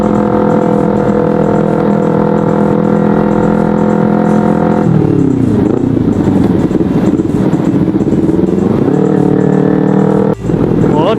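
Kawasaki Ninja 250 motorcycle engine running steadily while riding, a strong harmonic drone that shifts pitch midway as the revs change, loud and close throughout with no talk.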